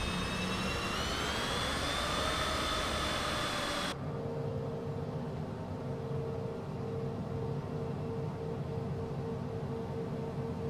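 Steady roar of a Cessna Citation CJ4 private jet's engines while taxiing, with a high whine that drops abruptly, leaving a lower continuous hum and drone.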